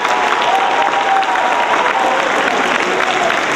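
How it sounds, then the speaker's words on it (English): Sustained applause from a school assembly audience fills the room at a steady, dense level from start to finish, with faint crowd murmur mixed in. "How about one more nice round of applause for Ms."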